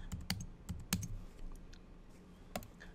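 Keys clatter on a computer keyboard as a number is typed into a spreadsheet, a quiet, irregular run of light clicks with short bursts and pauses, close to the mic over faint background hum.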